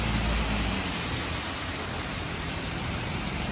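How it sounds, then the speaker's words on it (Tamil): Steady rain falling in a continuous close hiss, with a low rumble at the very start and no voices. "மழை மழையும் ரசிக்க நல்லா தானுங்க கிடக்கு"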